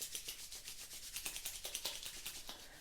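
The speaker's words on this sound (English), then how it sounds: "And rub your hands together." Two hands rubbed briskly together, close and soft, in a quick steady back-and-forth rhythm of repeated swishing strokes with no other sound.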